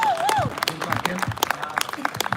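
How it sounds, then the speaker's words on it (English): Scattered clapping from a small group during a live stream, with uneven individual claps, while people talk and a high-pitched voice sings out over it. "Everybody give this young lad a round of applause."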